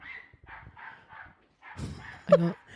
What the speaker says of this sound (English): Can we shut these dogs off?